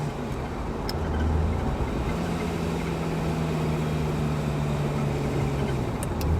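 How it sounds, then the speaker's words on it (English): Steady wind-buffeted cabin rumble and engine drone inside a Ferrari F355 Spider driving with the roof down, a continuous low hum with a faint sustained tone, no talking. "So there's a fair bit of noise in this car."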